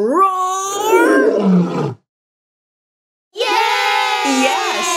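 Voices imitate a lion roaring in two loud, drawn-out bursts with a short silence between them, rough and rising like a crowd of excited shouts.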